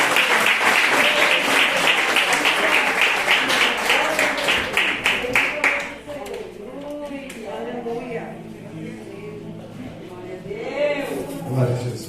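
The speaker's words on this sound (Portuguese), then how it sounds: "Uma salva de palmas para Jesus." Church congregation applause during a men's worship service, loud dense clapping for about six seconds that fades out as a voice begins speaking and continues under quieter sound.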